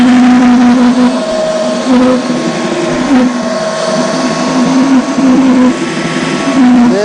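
An orbital sander fitted with 80 grit paper works over a vanity cabinet, a loud, steady motor whine with slight pitch wavers and brief dips as pressure shifts, close and continuous throughout.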